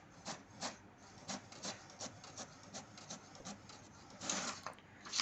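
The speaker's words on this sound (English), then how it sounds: "Can see now it's printing in the test page." An HP DeskJet 2710 inkjet printer runs a test page, giving faint rhythmic rubbing and scraping passes of the print carriage at a steady pace, close by with no talking.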